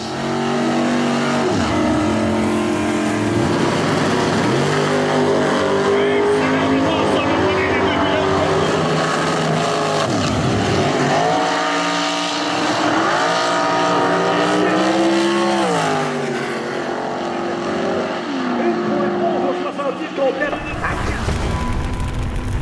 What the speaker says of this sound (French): On vous les présente encore une fois, les frères Rangés sur le circuit Jacques Lelièvre de Montjoli